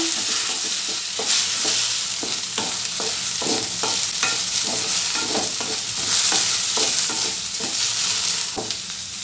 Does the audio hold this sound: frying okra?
yes